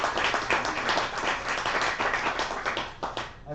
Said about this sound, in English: let's just go ahead and give a round of applause to all the people who presented today.